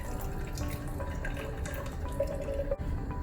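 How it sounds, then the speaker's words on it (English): Clover tea being poured into a cup already sweetened with a little honey, a steady trickling stream of liquid with faint drips, fairly close and alone without talk. "And I am gonna pour out some of the clover tea."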